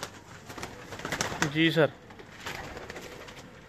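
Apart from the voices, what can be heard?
teddy pigeons cooing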